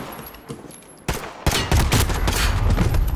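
Automatic gunfire in a Call of Duty Modern Warfare multiplayer match: a few scattered shots, then a sudden loud, dense burst of rapid fire that continues to the end.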